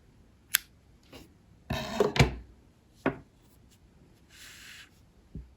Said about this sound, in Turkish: artık bu ipi kesiyorum